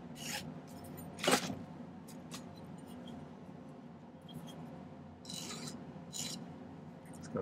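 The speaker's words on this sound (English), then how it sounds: "And then I'm going to round the corners just a little bit with the file." Dry rasping strokes of a metal file rounding the corners of silver bracelet links, a few bursts spaced irregularly with quiet scraping between, close by and fairly soft, no talking.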